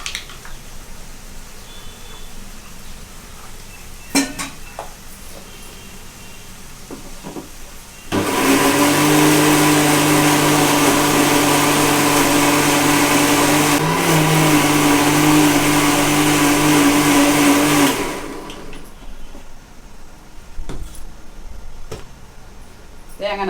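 A kitchen mixer grinder grinds masala paste for mutton kulambu, a loud steady motor whine that starts abruptly, runs for about ten seconds and cuts off, with quieter kitchen sounds before and after.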